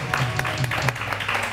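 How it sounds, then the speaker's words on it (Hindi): A TV morning show studio audience claps to welcome a guest, a short burst of fairly loud applause with a voice partly audible over it. "ज़ोरदार तालियों में हम वेलकम करेंगे"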